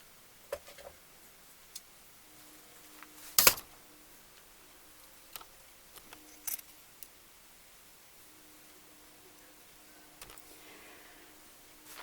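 Scissors snip off the excess material from a folded triangle while sewing a bunny pillow: a few sharp, isolated clicks spaced out over quiet room tone, one much louder than the rest.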